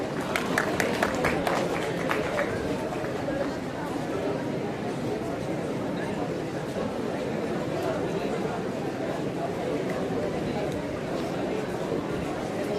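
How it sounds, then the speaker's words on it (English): Audience applause at a school investiture ceremony where cadets receive badges, crisp clapping at the start giving way to a steady dense wash of clapping and crowd chatter, moderately loud throughout. "Please give them a huge round of applause."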